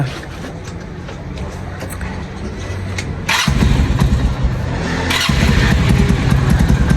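An old motorcycle's engine coughs to life partway through, jumping from a quiet background to a loud, steady rumbling idle that stays close and continuous to the end.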